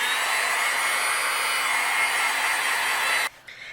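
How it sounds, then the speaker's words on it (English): Heat gun melting white embossing powder on a handmade card, a steady loud blowing whir that holds evenly for about three seconds before it is switched off abruptly. "just using the heat gun."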